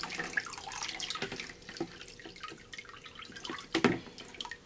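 Water drains and trickles from a homemade chicken egg washer, with irregular splashes and drips, fairly faint, and one stronger gush near the end; no one speaks.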